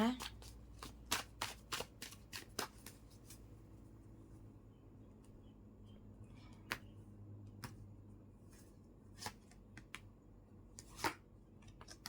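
Tarot cards are shuffled and drawn in a series of crisp, quick card snaps and riffles, dense at first and then spaced out, close and fairly faint over a low steady hum, with a voice talking faintly underneath.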